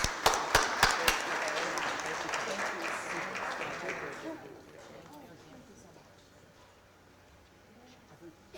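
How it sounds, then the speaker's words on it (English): An audience at a Board of Aldermen meeting applauds in a burst of clapping with a few sharp claps at the start, loud at first then fading out after about four seconds into quiet room tone. "Let's give them another big round of applause."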